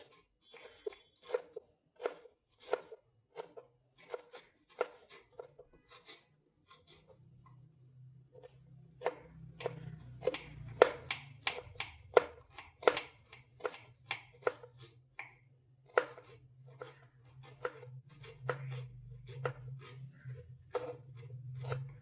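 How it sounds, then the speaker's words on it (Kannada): Ginger chopped thinly with a knife on a board, a steady run of sharp crisp cuts, slow at first and then faster and denser, close and fairly quiet with a faint low hum under the later strokes. "ಇದನ್ನು ಸಪೂರಕ್ಕೆ ಕಟ್ ಮಾಡ್ತಾ ಇದ್ದೇವೆ"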